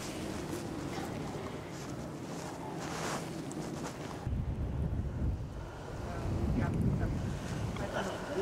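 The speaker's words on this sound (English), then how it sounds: "that wind is quite chilly" Chilly late-November wind at Sunny Beach, Bulgaria, buffets the microphone in a steady low rumble. It strengthens after the midpoint, with faint surf-like wash underneath and no clear talk.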